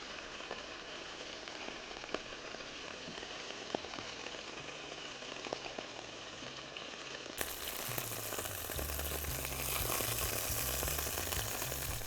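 Zangezur chicken frying in a pan gives off a constant crackling sizzle that grows louder and fuller partway through, with no voices.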